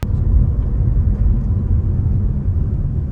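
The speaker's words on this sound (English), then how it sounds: "one thing that really irritated me about this car was the engine. It made really sad noises." Toyota RAV4 TRD Off-Road engine straining, a loud, dull low rumble droning steadily and close with no talk.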